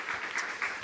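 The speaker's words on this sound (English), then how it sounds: "a warm round of applause" Audience applause after a conference talk, a short, steady burst of clapping from a room of listeners at moderate level, with no voices over it.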